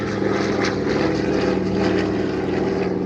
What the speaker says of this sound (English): That's a cool plane.